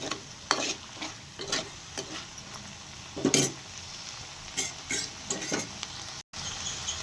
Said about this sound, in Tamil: கொஞ்சமாக தேங்காய் தூவிக்குவோம் கொஞ்சம் கிண்டி விட்டு